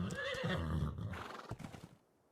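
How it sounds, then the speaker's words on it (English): A horse in the survival game ARK: Survival Evolved gives a loud, close whinny lasting about two seconds, with hoof clip-clops underneath before it fades into quiet. "Finally have a horse."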